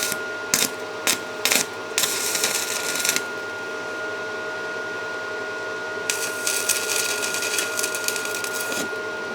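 Arc welding with a stick electrode: bursts of sharp crackling as the rod is struck several times in the first few seconds, then a steadier sizzling buzz of the arc, close and fairly loud, with no talking.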